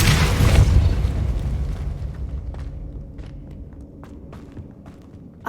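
Depulso spell cast in the video game Hogwarts Legacy: a loud, booming blast opens, then decays into a low rumble while light footsteps patter close by, with no talking.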